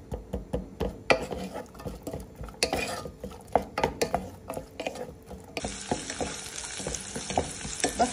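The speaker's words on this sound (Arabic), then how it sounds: "بقليهم مع بعض على الغاز، بقليهم مع بعض لياخدوا لون اصفر خفيف" Onion and garlic frying together in a pan on a gas stove, repeated rhythmic scraping of a spoon being stirred over a continuous sizzle, close by, with the hiss growing brighter and louder toward the end.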